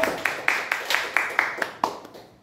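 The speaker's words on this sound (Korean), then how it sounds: "여러분 하나님께 영광의 박수를 보냅시다." A church congregation at a Sunday worship service claps in a slow, even rhythm of about ten distinct beats that fade gradually over a couple of seconds, heard fairly close with a reverberant tail.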